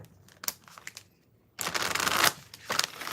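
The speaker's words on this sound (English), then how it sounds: "Let's go ahead and get into these shuffles and get going." Tarot cards are shuffled close up, a few light riffling flicks followed by a dense, crisp burst of card shuffling, then a shorter rustle.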